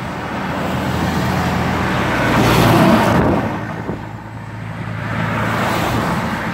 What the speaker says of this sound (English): And more dump trucks coming in.